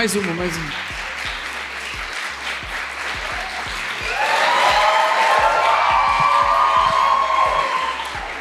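A live audience at a recorded podcast event in Belém applauds, a dense crowd clapping that swells louder partway through and holds steady, with some voices mixed in.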